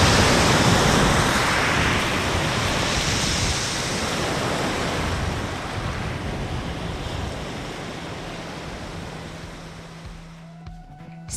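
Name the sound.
Adriatic Sea waves after a storm, Petricane near Zadar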